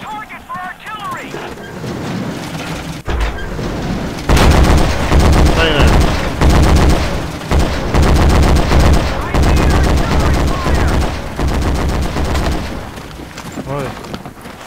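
Sustained machine gun fire in the World War II shooter Forgotten Hope 2, loud, dense rattling bursts with brief gaps, mixed with other gunfire, wind and voices talking.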